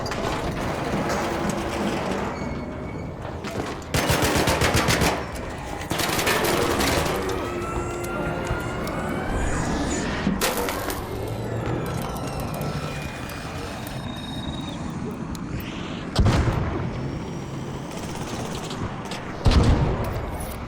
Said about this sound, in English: the random guy immediately started shooting at me